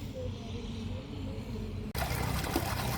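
A 3000W BLDC motor pump runs inside a drum, moving water with a steady wet churning. It abruptly turns into a louder, broad rushing gush of water near the end.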